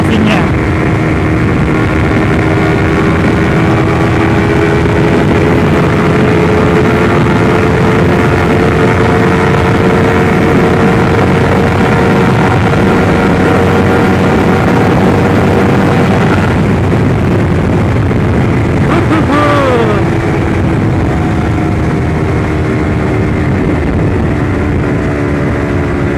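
A stock-engined Honda CBR250RR fitted with a Tritec EvoX X3 NRC racing exhaust runs flat out at top speed in Sport+ mode, giving a loud, steady high-revving engine drone with wind rush and a brief pitch change near the end.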